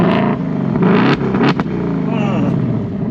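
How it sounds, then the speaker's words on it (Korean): A 2024 Ford Mustang 5.0 GT V8 revs by remote start with nobody in the driver's seat, a loud, rumbling engine that swells in a couple of bursts and then settles into a steady idle close by. "리모트 랩 기능입니다"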